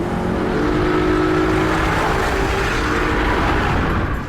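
Maserati Gran Cabriolet with a Ferrari-built 4.7-litre V8 of 440 horsepower, a loud, continuous engine roar that holds steady with tonal whine layered on top, close and alone without voices.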